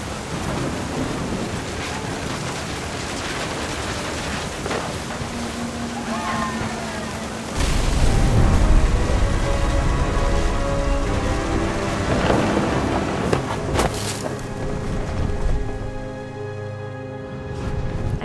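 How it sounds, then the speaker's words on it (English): Heavy rain pours steadily in the video game What Remains of Edith Finch, with deep rolling thunder swelling into a louder, close rumble partway through and continuing over the downpour. "The thunder sounded much too close and full of angry power"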